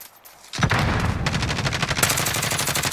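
Rapid automatic gunfire from a Call of Duty: Warzone match, loud and continuous after a brief quieter lead-in, with dense repeated bursts stacking into a sustained rattle near the listener.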